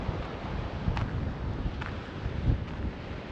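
Wind buffets a GoPro microphone on a beach at Esperance, Western Australia, producing a steady, close, low rumbling roar with brief gusty swells and no talk.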